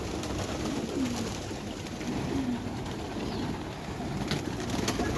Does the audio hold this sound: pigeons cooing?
yes